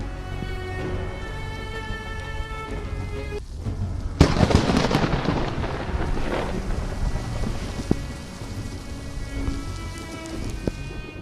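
A thunderstorm: steady heavy rain with a sudden loud thunderclap from a nearby lightning strike, followed by a long rumbling roll that fades back into the rain.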